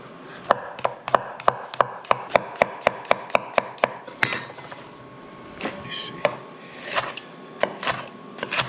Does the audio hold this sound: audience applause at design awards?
no